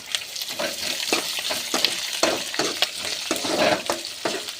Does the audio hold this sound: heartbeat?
no